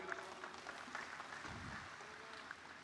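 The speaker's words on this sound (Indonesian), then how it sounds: "Kita berikan aplaus" Applause from an audience at a GP Ansor anniversary gathering greets a government minister during a speech, a steady crowd of clapping hands filling the room without pause.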